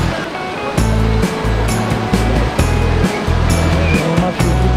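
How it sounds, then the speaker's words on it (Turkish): Incoming tidal water rushes across the flats at Mont Saint Michel in a loud, continuous roar, with surging low rumbles rising and falling in waves. "Şu anda gelgit olayına şahit oluyoruz."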